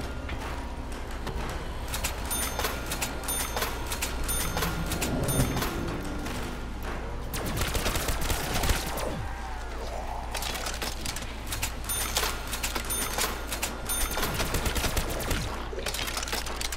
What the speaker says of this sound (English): That machine gun turret's tearing up.